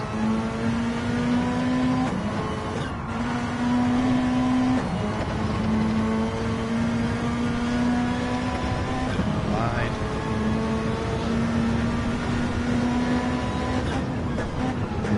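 Race car engine in an ERL GT elite race, held at a steady droning pitch, briefly dropping on downshifts and pulling again through the last corners, loud and continuous with commentary over it.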